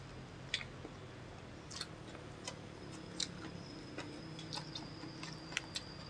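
Someone chews sambal with boiled kangkung, giving sparse, soft clicking bites at an irregular pace, close and quiet over a faint hum.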